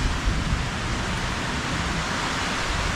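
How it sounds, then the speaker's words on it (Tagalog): Heavy rain pours in a dense, constant hiss, loud and unbroken, with a low rumbling underneath, at night during a storm with thunder. "Lakas ang ulan mga sir."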